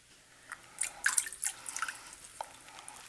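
Liquid dye drips into a tie-dye bath in quick irregular drops, close and fairly crisp, each plink distinct against quiet room tone.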